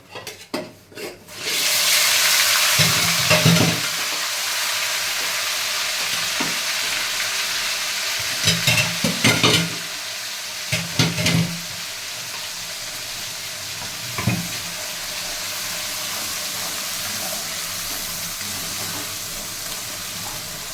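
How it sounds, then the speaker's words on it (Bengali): Ginger, onion and garlic paste hits hot oil in a pan for chicken roast pulao, erupting into a loud, sustained sizzle, with several bursts of spoon scraping and clatter as it is stirred. "দিয়ে দিলাম আদা বাটা, পেঁয়াজ বাটা, রসুন বাটা"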